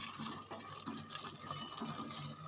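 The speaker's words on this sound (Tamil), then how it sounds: "ஒரு 1/2 டம்ளர் அளவுக்கு தண்ணி ஊற்றிக்கலாம்." Water poured into a pot of simmering chicken curry, a soft splashing, trickling stream running continuously at close range, fairly quiet and with no voices.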